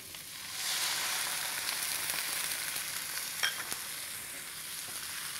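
Beef frying in a pan for tsiren tukunya, a steady loud sizzle that starts after a brief quiet moment and continues evenly with small crackles, with no talking.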